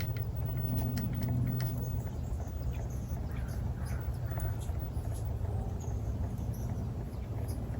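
MN168 RC crawler truck with an upgraded brushless motor grinding slowly up a steep rock incline outdoors, a steady, fairly loud rumbling drone with a faint high whine running throughout, no pauses.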